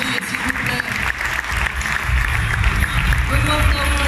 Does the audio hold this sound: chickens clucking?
no